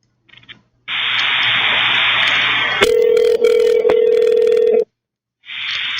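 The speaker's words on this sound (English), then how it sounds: "It's ringing." A telephone on an outgoing call plays a loud steady tone that switches to a lower ringback tone and then cuts off. The tone resumes after a short silence, close and clear, with no voices.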